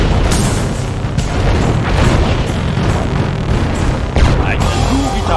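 Repeated mortar shell explosions in the real-time strategy game Mental Omega, a dense run of booming blasts mixed with a heavy battle soundtrack and a voice line.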